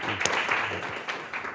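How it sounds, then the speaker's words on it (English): Audience applause welcoming the speakers at a book event on the presidential pardon, a steady wash of clapping from a seated crowd, fairly loud and continuous for a brief moment. "We applaud first because it's all downhill from here."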